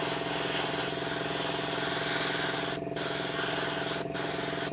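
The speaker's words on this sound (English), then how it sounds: "so I'll do the front side of him with the airbrush" Airbrush spraying paint onto a 1/32 scale T-800 endoskeleton model kit, a loud continuous close hiss with two brief cut-offs, no talk.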